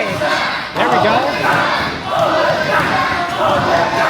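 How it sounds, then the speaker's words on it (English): A wrestling crowd roars and cheers loudly in a sustained wave, dipping briefly and then surging again, with a commentator's voice partly audible under the noise. "Crowd starting to come alive for this one."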